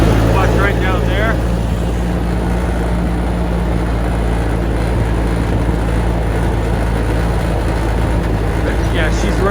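Massey Ferguson tractor engine running steadily at high throttle, a loud constant drone with a strong low hum filling the whole stretch, with brief faint sounds near the start and end.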